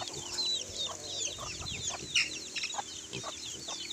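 A flock of native Philippine chickens clucks and chirps continuously at moderate distance, with scattered higher calls over a soft outdoor background.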